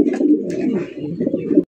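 Racer pigeons coo in close, continuous throaty bursts, several overlapping calls rolling steadily and loudly for the whole short stretch with no talk.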